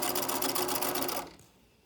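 Sewing machine stitching elastic onto fabric runs in a fast, steady mechanical whir up close, then stops abruptly after about a second and a quarter.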